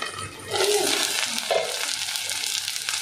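Chicken kari dosai cooking in ghee on a hot pan, a steady close sizzle and fry crackle that swells after the first half second and holds evenly to the end, with no talking.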